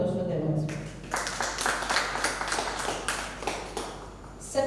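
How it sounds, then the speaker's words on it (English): Audience applause in a hall at a faculty development programme's closing session on electric mobility, steady dense clapping with a few louder claps and some talk over it, ending abruptly. "A huge round of applause for them as well."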